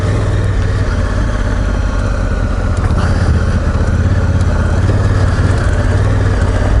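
Honda Africa Twin motorcycle on dirt bike trails, its engine droning low and steady at a constant pitch throughout, loud and close with no breaks.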